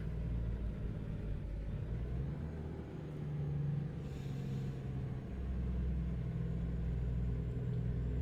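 A truck engine strains uphill with a deep, steady rumble that stays loud and close throughout and dips briefly in the middle.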